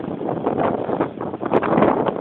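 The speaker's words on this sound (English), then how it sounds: "Very fucking windy." Strong wind at Manhattan Beach, California, buffets the microphone in a dense, gusting roar that swells and dips across a couple of seconds, with no other sound standing out.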